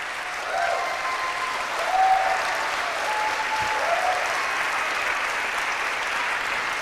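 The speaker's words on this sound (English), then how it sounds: "You shouldn't be clapping." Sustained audience applause fills the hall at an event marking twenty years of an independent news program, a steady dense wash of clapping with no talk over it.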